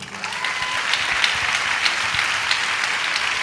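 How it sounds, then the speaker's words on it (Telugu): A church congregation at Sunday worship claps together at the pastor's call, a steady wash of applause that swells slightly and holds without pause. "చప్పట్లు కొట్టు."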